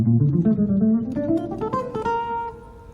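A guitar plays a line climbing from low notes to high ones, individual plucked notes rising smoothly and ringing out alone.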